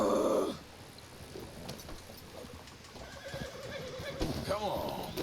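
A horse in the Red Dead Redemption 2 game whinnies and snorts loudly up close, then its hooves shuffle and clop unevenly while someone talks over the restless animal.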